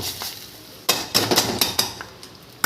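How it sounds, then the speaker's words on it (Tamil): A spoon stirs tempering into cooked Brazilian spinach kootu in a pot, making several quick scraping strokes and metallic clinks against the vessel, close and fairly loud, after a quiet start. "போட்டு நல்லா கிண்டி விட்டுப்போம் தாளிப்பு போட்டிருக்கோம்"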